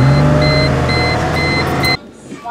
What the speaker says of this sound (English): So my car's a little bit loud.